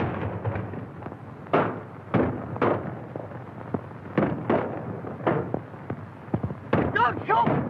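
Repeated gunshots crackle irregularly at mid distance, a dozen or more sharp pops in uneven bursts, with a voice shouting between them.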